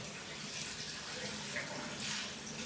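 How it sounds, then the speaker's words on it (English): Water runs steadily into a bath, a constant hissing flow at low level with faint voices murmuring underneath. "Turn that water off."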